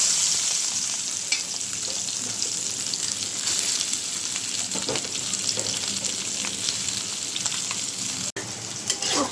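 Tengra and puti fish, seasoned with turmeric and salt, fry in hot oil with a loud, steady crackling sizzle close by, dense popping spatters throughout and a brief dropout near the end; no talk.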